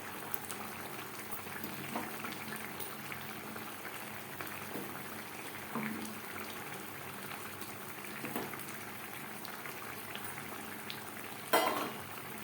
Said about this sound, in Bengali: মাছের সাথে টমেটো বেশ ভালো করে সুসিদ্ধ হয়ে গেছে